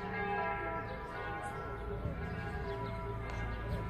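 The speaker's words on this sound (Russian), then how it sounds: "Это откуда колокольный звон?" Church bells ring at a distance in Jerusalem, a steady, resonant peal with overlapping tones, heard faintly against low background noise.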